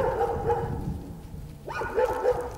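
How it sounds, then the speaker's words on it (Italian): Several dogs bark and yip outdoors, one barking off in the distance, with irregular bursts of barking and some whimpering at moderate loudness. "Dora, quella che sta abbaiando laggiù."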